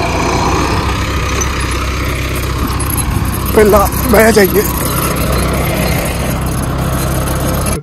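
A new Swaraj tractor fitted with a lift loader idles with a steady low rumble throughout, while someone talks briefly over it.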